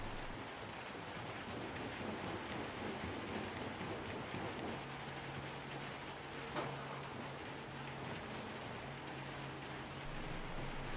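Steady rain falls in Little Nightmares II, a dense, even hiss that fills the whole clip with no voices, joined midway by a faint low hum in the background.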